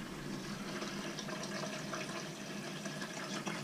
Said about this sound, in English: Right, so it's filling up